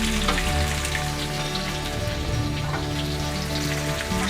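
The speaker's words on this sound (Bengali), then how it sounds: "সবজিগুলো ভাজতে তেজপাতা আর ফোড়ন তেল দিয়েই ভাজতে শুরু করেছি" Steady, dense sizzling of vegetables frying in hot oil with bay leaves and whole-spice tempering for a Bengali shukto, a continuous rain-like crackle throughout with no voices.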